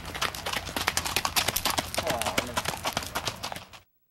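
Peruvian Paso horse hooves clip-clop in a quick, even, busy rhythm, close and fairly loud, under a voice talking throughout.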